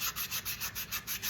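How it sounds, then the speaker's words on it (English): A flexible sanding pad rubs back and forth over air dry clay, smoothing away small ridges in a steady, even rhythm of soft scratchy strokes, close and fairly quiet. "There's some little ridges here that I'm going to sand away."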